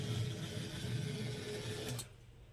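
A Bluetooth-controlled cleaning robot scrubbing the floor as it drives, giving a close, steady mechanical whir and brushing hum that cuts off abruptly near the end.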